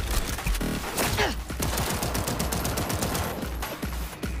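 Dense rapid gunfire in the Cyberpunk 2077 video game, continuous crackling bursts of automatic shots filling the whole stretch, loud and close.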